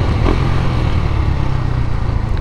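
KTM 390 Duke single-cylinder motorcycle engine running steadily while being ridden, a loud, close, continuous low rumble with wind noise and no talk.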